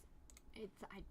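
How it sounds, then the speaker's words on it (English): A computer mouse gives a few quiet, separate clicks close by, soft and sparse against a faint background hum. "I'm clicking on things and I shouldn't."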